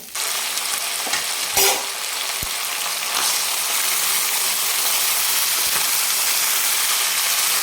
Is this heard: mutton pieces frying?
yes